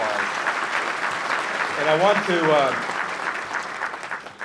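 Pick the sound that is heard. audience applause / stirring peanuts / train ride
audience applause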